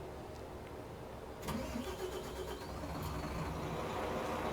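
The diesel engine of a MAN Lion's Coach bus in Euro Truck Simulator 2, heard from outside as it cranks, catches and settles into a steady idle, continuous and moderately loud with no talking.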